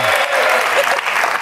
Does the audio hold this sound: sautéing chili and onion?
no